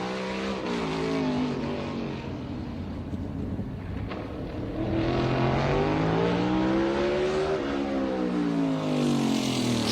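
A Ford NASCAR race car at the Busch Clash engine roaring as it gets up to speed on a qualifying lap, a loud sustained drone with pitch sliding down, then rising again as it accelerates.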